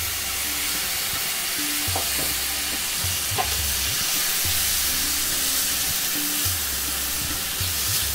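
Chopped tomato stirred into cooking spices in a cast iron pot, giving a steady close sizzle and frying hiss with occasional clinks and scrapes of stirring throughout.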